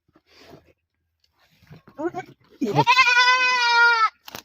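A goat lets out a long, loud wavering bleat close by, preceded by a few shorter bleats and rustling.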